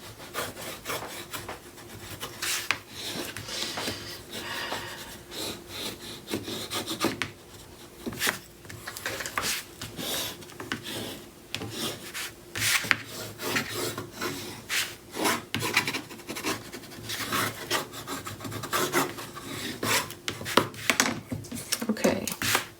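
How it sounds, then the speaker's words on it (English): Paper is burnished down with a handheld burnishing tool on a mini album base, giving continuous close rasping and rubbing strokes in an uneven rhythm for the whole stretch, with no talking. "now I'm going to burnish everything"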